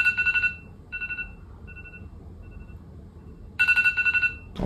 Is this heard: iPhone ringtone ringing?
yes